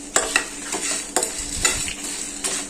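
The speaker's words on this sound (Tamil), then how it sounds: "இது நல்லா சிம்மில் வச்சு நல்லா வறுத்து எடுத்துக்கலாம்." Mutton masala fries slowly over a low flame, a soft continuous sizzle punctuated by regular scraping spoon strokes, roughly two per second, close and clear with no talking.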